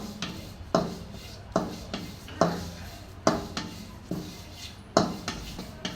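Coriander seeds dry-roasting in a pan for homemade kulambu masala powder: a rhythmic scraping of a spatula against the pan, about one stroke per second, with a rattling, gritty texture between strokes.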